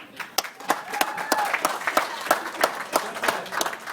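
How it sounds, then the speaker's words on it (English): Wedding guests at Jorge and Cristy's reception applaud after a speech, a moderate crowd clapping with distinct, fairly regular claps standing out from the wash, steady for a few seconds. "And another round of applause just for that."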